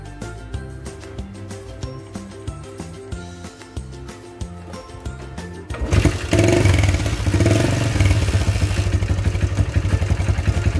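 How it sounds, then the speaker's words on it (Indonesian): A motorcycle engine starts and settles into a loud, steady, rattling idle close by, preceded by a rhythmic mechanical clatter of cranking. "Nah, mesin motor sudah hidup sahabat."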